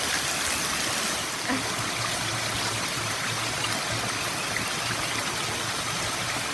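Steady running water from a tap washing a jackfruit bought at a market, a continuous even splashing rush with no voices.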